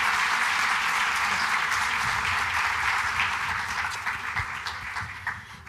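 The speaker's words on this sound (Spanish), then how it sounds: "Dale un aplauso ahí al candidato" Steady crowd applause for a political candidate during a live interview event, a dense wash of clapping that gradually thins and softens toward the end.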